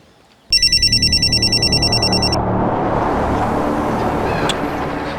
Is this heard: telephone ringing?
yes